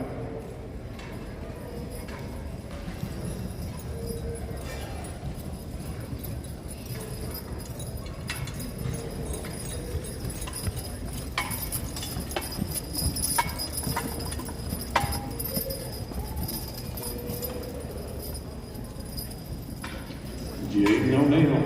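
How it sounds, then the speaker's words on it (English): A pair of draft horses hauls a load in a pulling contest at the Kentucky State Fair in Louisville, hooves clopping unevenly on packed ground with jangling harness, under crowd noise and voices that swell toward the end. "Nice pair of horses with a good driver."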